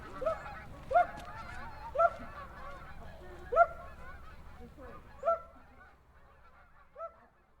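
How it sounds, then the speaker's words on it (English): A massive flock of geese honking over treetops, repeated loud honks spaced about a second apart over a faint, murmuring background of more distant calls. "a massive flock of geese suddenly appears over the treetops"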